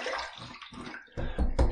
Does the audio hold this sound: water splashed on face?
yes